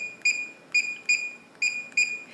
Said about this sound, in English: 2 beeps and 2 green flashes, meaning the sound is turned off